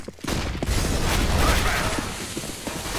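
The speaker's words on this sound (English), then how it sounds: "I'm throwing the flashbang." Flashbang grenade thrown in Counter-Strike: Global Offensive during a competitive Cache match, a sharp burst after a brief quiet start, then dense loud crackling game noise with gunfire-like pops sustained throughout.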